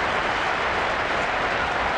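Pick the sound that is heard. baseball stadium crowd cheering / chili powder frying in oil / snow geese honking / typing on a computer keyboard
baseball stadium crowd cheering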